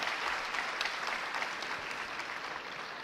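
An audience at a Telugu spiritual discourse applauds, a dense, even wash of many hands clapping at once, fairly loud and sustained before it tapers slightly at the end.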